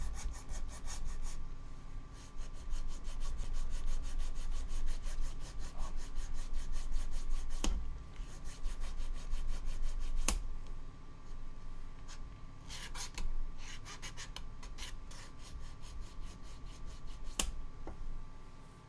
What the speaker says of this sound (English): I need to fucking sand this part down